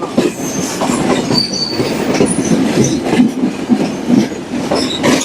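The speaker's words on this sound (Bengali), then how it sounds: "আর এদিকে পুরাতন ট্রেনগুলো যাচ্ছে" Passenger trains on a Bangladeshi railway during the Eid holiday, heard from aboard the Chilahati Express as older trains pass: a steady loud rumble of wheels and carriages, with intermittent squeals and rhythmic clacking and no talk.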